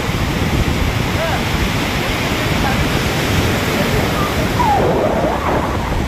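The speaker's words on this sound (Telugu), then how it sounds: "ఈరోజు బీచ్ అయితే ప్రశాంతంగా ఉంది" Surf rolls in continuously at RK Beach in Visakhapatnam, a broad steady roar of breaking waves with wind, and faint voices occasionally in the background.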